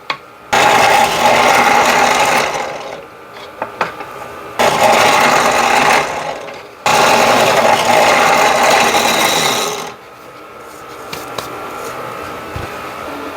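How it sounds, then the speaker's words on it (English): A drill cuts a hole in the wooden base of a drone stand for lights, three long, loud, close grinding runs separated by brief pauses, followed by quieter mechanical noise. "Now let's drill the hole in the base for the lights."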